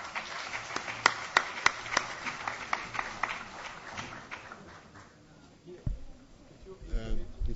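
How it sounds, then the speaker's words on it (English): Applause from a conference audience after a session's speakers at the 2012 World e-Parliament Conference in Rome, heard as scattered, moderately loud claps that thin out and fade over several seconds before talk resumes. "And a round of applause for our speakers."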